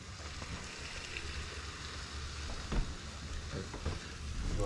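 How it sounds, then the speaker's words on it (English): Fajita meat sizzling in a pan during a cooking class, a steady broadband hiss of frying with faint crackles and a few louder pops, continuous throughout. "Do I hear it sizzling, bro?"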